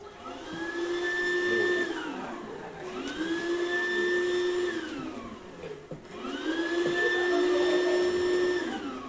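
A gift-grabbing gadget sucks out presents with a loud, steady vacuum-like whoosh that rises and falls in three long sweeps, each with a droning whine, with no talk.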